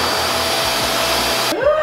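A handheld hair dryer runs steadily during a wash-day blow-out, its broad whooshing airflow continuous and close, with a brief shift in pitch near the end as it is moved or adjusted.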